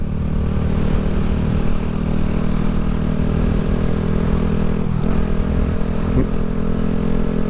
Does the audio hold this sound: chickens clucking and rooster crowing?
no